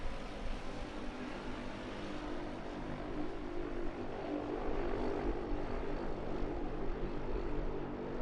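Steady, droning propeller engine of a small plane in flight, a continuous loud hum with no pauses.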